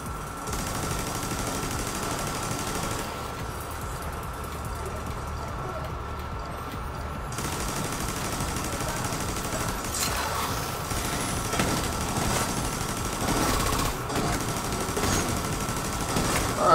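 Gunfire aimed at the player in The Division 2, heard as bursts of rapid shots and scattered cracks over a dense, busy game soundscape.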